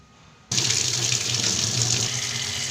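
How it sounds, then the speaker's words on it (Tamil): A kitchen tap turns on abruptly and runs steadily as homegrown mint leaves are rinsed beneath it, a close, full rushing splash with no voices. "புதினாவும் கழுவியாச்சு."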